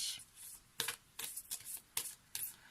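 Oracle cards shuffled by hand in a series of quick riffling bursts, about six short papery flurries spaced roughly half a second apart, close and fairly quiet with no talking.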